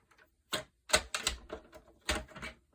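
Scissors cutting paper for a handmade card: several crisp snips in an irregular sequence, close and fairly quiet, with no talk.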